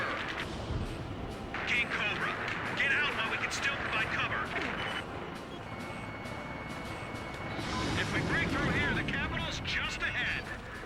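Missile strikes destroy pillboxes in the Ace Combat 5 flight video game: repeated explosions and rattling gunfire in a dense, continuous battle mix with engine roar, and a voice talks over the action.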